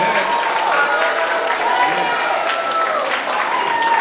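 Audience applause for two school groups at a secondary-school Christmas concert, a steady mass of clapping from a large crowd filling the whole stretch without a break.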